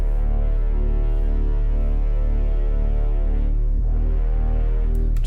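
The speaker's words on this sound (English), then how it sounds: "So I'm going to put a bit of chrome reverb on." A processed French horn bass for drum and bass plays as a loud, sustained low tone with chrome reverb, pulsing in a steady rhythm with a brief shift near the end and no voices.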